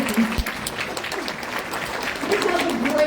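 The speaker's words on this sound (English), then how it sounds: "So give yourselves a big hand." Applause from a conference audience at an education event, a steady wash of many hands clapping with voices audible underneath and a slight swell near the end.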